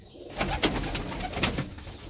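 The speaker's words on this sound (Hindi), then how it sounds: "ये कबूतर कबूतरियाँ हैं, बड़े कबूतर है" Pigeons cooing in soft, repeated throaty calls, fairly close, with a few sharper rustles and flutters among them and no talking.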